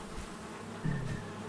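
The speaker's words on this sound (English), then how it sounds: "These bees here are making honey, and they're happy." Honey bees hum at a hive surrounded by palisades, a soft close buzzing with one bee droning louder as it passes near for a moment, brief and fairly quiet.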